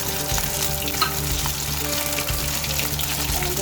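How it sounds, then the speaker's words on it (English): Continuous loud sizzling and crackling of soya kababs deep frying in hot oil, close and steady throughout with small pops. "Add it to the hot oil and then low the flame."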